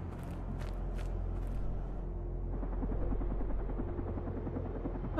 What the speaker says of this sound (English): Oh, hey, a helicopter.